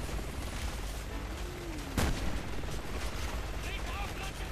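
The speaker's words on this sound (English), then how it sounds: "the best thing for Piers is to just stand at the back and shoot with the rifle" Gunfire in the video game Resident Evil 6, with one sharp, heavy report from an anti-materiel rifle standing out amid a steady rumble of battle noise and distant shooting.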